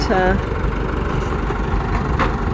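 Engine of an earth auger stuck in the ground running at a steady rumbling idle close by, with a voice briefly heard at the start.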